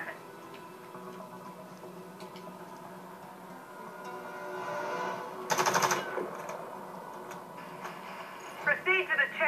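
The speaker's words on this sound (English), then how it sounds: "Now reload your weapon." A weapon reloads in the Warface video game training course: quiet mechanical clicks and ticks over low background hum, a brief louder metallic burst midway, and a quick run of sharp clacks at the end.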